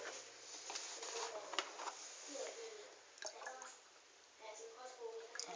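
Milk and cream being poured into a measuring jug at home, soft close liquid trickles and drips in short bursts, faint with brief pauses between pours.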